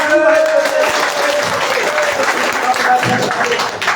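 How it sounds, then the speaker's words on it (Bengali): Audience at a commemorative meeting breaking into loud, dense applause that carries on throughout, with voices mixed in under the clapping. "আপনারা জোরে একটা তালি দেন"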